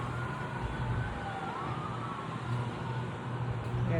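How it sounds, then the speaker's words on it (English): A faint siren wails far off, its pitch slowly rising and falling beneath steady outdoor ambience and a low background rumble. "hear sirens in the distance."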